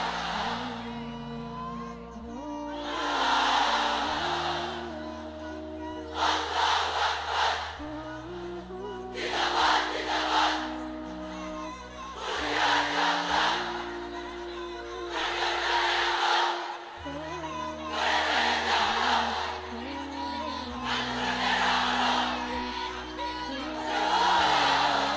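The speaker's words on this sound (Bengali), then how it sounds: "এক একটা তাকবীরে যাতে এই প্যান্ডেল কেঁপে ওঠে" Large crowd in a pandal chanting the takbir in unison, with loud, roaring call-and-response bursts that rise and fall repeatedly over a steady background of amplified sound.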